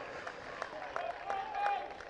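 A crowd applauds a point scored in a Gaelic football club match, steady distant clapping and cheering throughout, fairly even in loudness.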